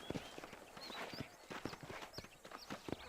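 Horse hooves clip-clopping across the ground in Red Dead Redemption, a steady walking rhythm of close, crisp hoofbeats with faint creaks and ambient noise between steps.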